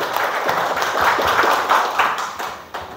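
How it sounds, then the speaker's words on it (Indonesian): An audience at a working meeting claps together, a fairly loud, close burst of hand claps with some distinct individual slaps, lasting about three seconds with no talking. "Tepuk tangan buat kita semua."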